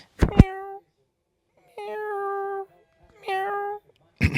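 A person imitates a cat with two drawn-out meows, each about a second long and separated by a short pause. Brief, sharp noises come just before and right after them.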